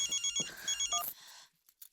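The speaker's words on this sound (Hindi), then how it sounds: "बहुरिया को फोन करके पूछते हैं क्या हुआ।" A telephone rings in a home on a rainy night as a call is placed, with several bright repeated electronic ring bursts over about a second before it cuts off into near silence.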